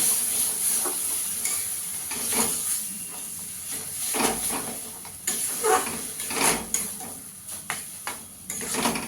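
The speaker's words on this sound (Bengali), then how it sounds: "এবার শাপলাটা দিয়ে দেবো ভালো করে মিশিয়ে নেব" Water lily stems being stirred into a frying pan: scraping strokes of a spatula in an irregular rhythm over a continuous sizzling hiss, loud and close, with no voices.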